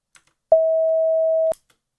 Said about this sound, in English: There's artifacts at the beginning and end just because it's a very hard sine wave